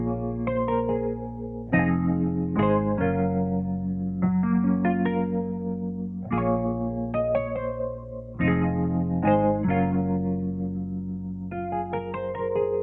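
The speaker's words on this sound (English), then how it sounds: "listen to what we have so far, which is the Rhodes and the bass line" Mellow Rhodes electric piano chords with a warm bass line underneath, played at a relaxed pace with effects-laden shimmer, no voices.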